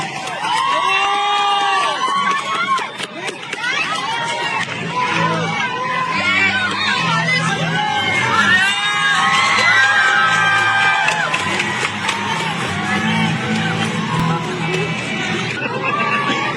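Crowd at a peaceful political rally shouting and cheering continuously, a dense roar of many voices with whoops and scattered children's shouts, loud and close throughout.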